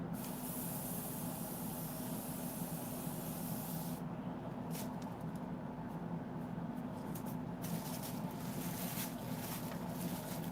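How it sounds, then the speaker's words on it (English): An airbrush sprays paint onto a Sideshow Darkseid maquette with a continuous soft hiss, close and fairly quiet, cutting in and out in short bursts partway through. "Because the two colors are very similar, you can get away with the airbrush."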